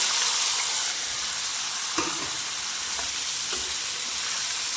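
Garlic and onion fry in oil in a pan with cumin for dal, a loud steady close sizzle and hiss with one brief clink of a spoon partway through.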